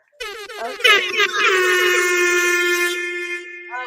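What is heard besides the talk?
air horn blasts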